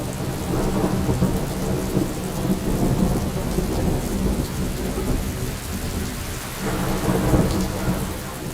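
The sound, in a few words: heavy rain and thunder in the UAE desert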